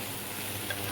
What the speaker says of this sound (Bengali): এই যে আমি একটুখানি হালকা করে ভেজে নেব